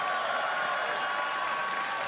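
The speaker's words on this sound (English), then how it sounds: "Give them a big round of applause." A dense wash of clapping from a political convention crowd, continuous and even throughout the short stretch.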